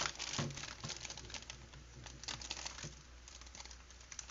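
Scissors snip and crinkle through the plastic packaging of a Banpresto Yuyu Hakusho Kuwabara figure, giving soft, irregular rustling and cutting close by.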